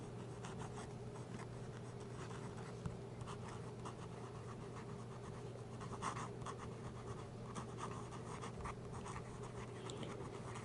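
A Delta Dolcevita fountain pen with an extra fine nib scratches softly across paper in steady, continuous strokes, faint and close against a low, even room hum.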